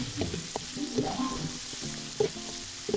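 Sautéing in the oil left from frying mackerel tuna for a Filipino coconut tuna stew, a steady broad sizzle with stirring knocks and scrapes, fairly close and continuous over a few seconds, no talking.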